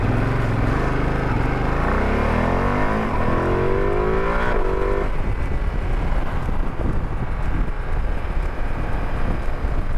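Ducati Multistrada V2S motorcycle from 2025 accelerating, engine note climbing through gears in rising sweeps, then heavy wind rush buffeting the microphone, loud and close, no talk.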